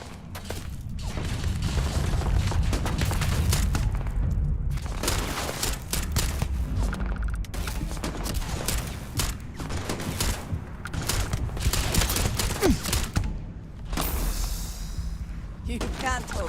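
Rapid gunfire and booming blasts rattle through a space battle in the video game Starfield, loud and nearly continuous, layered with mechanical clatter and game effects while voices talk over the barrage.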